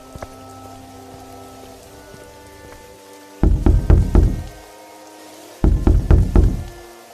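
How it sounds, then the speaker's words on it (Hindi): A door chain is rattled against a door at night in two quick bursts of rapid, close knocking, separated by a short pause, with a faint steady background in between. "इतनी रात में काहे कुंडी बजावत है?"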